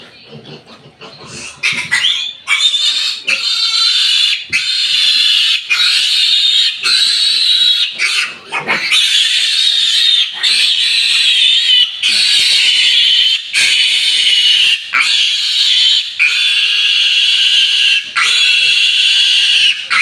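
Piglet (biik) squealing almost continuously, loud and shrill, with brief breaks and a few sharp jumps over twenty seconds, no talk.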